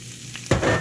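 Carrots for fried rice hit hot oil and burst into a loud, close sizzle after a short quiet moment, then keep crackling steadily.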